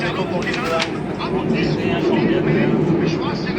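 Continuous rolling rumble inside a moving metro train car in Portugal, loud and steady throughout, with background voices under it.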